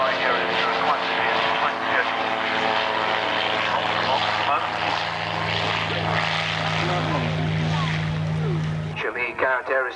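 A turboprop aircraft with a Garrett AiResearch engine flies at the 1996 Middle Wallop air show, its loud, steady propeller drone holding close and constant for about nine seconds before cutting away abruptly.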